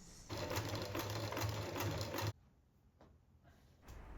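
A sewing machine stitches down the side flaps of a hand-made British Union flag, running in a steady fast whir for about two seconds before stopping, followed by quiet handling noises.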